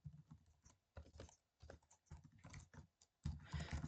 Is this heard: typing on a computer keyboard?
yes